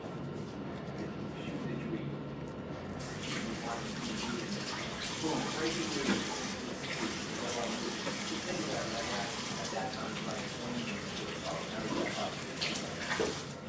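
Cold running water pours steadily from a tap into a bowl, a continuous rushing splash close by with quiet background sounds.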